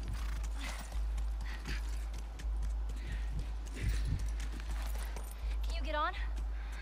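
Horse in The Last of Us Remastered, hooves clip-clopping in a loose rhythm over a low steady game hum, with mechanical clanks, a brief whinny-like sweep near the end, and speech in the scene.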